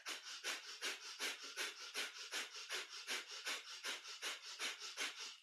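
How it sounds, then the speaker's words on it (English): Breath of fire during kundalini yoga: rapid, rhythmic panting through the nose, about three sharp exhalations per second, close and steady throughout with no talking. "So breath of fire is our panting breath through the nose."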